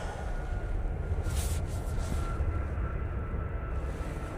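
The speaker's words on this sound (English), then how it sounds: "Here's the Emirates A380 coming in from Dubai." An Emirates Airbus A380 airliner arriving from Dubai at Manchester Airport makes a steady, moderately loud jet rumble that holds evenly throughout, with a brief hiss near the middle.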